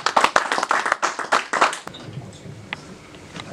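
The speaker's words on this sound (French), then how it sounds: "sur vos applaudissements s'il vous plaît" Audience at a political rally on Congo-Brazzaville's independence day clapping loudly in quick uneven bursts for nearly two seconds, then fading into quiet room noise with a few stray claps.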